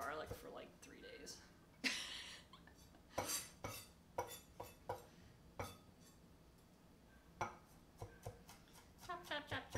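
Garlic being chopped with a knife on a cutting board, heard as a series of sharp, irregular knocks and clinks close by, spaced through the clip with a few quicker bursts.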